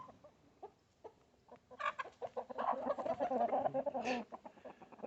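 Chickens, including a blue Orpington rooster, clucking and murmuring close by, scattered short calls building into a busy run of clucks with a sharper squawk near the end.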